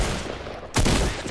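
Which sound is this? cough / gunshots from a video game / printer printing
gunshots from a video game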